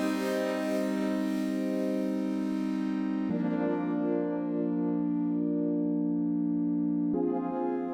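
A Hydrasynth synthesizer patch with delay and reverb holds a sustained, bright harmonic tone that shifts pitch twice, its echoing tail smoothing each change, loud and alone.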